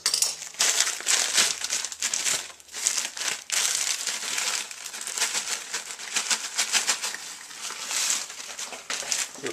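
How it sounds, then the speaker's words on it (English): Frozen raspberries dropped into a KOIOS blender, giving a close series of crisp rattling clatters and crinkly ticks over several seconds. "Put in some frozen raspberries."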